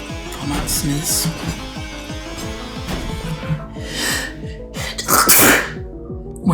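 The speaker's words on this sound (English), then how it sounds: "Sneeze." A person sneezes once during a Megabonk gaming session. The sneeze is sharp and bursts out near the end, over steady game music, with a breathy snort around it.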